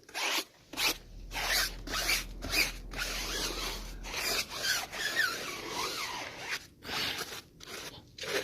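A brush scrubbing a car wheel and tire coated in Turtle Wax foam cleaner, close rhythmic scratchy strokes in bursts with short pauses between them, loud and without talking.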